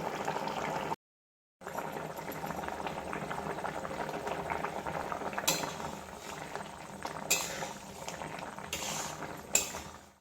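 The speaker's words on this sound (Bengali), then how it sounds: "যখন কোনো কিছু ফোটে তখন সেটার আওয়াজটা খুব ভালো লাগে" Fish curry bubbling in a pot on a gas stove, a steady dense simmering burble with faint clinks, close by, with a brief dropout near the start and no talk.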